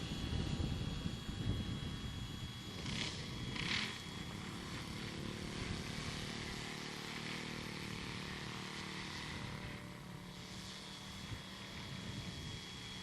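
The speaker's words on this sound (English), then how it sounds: "let's see if we can get Ralph coming in. Without getting both of our aircraft messed up" A small aircraft, likely a propeller model-club plane, drones steadily as it comes in to land, a continuous mid-distance engine hum that holds level throughout with no talk.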